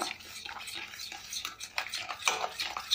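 A spoon stirring pala kesari, a milk-based sweet with fruit simmering in a pot, giving soft irregular scraping and swishing strokes close up, with a few brighter clinks against the pot.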